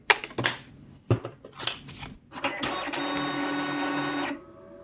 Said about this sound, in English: We can power the printer up.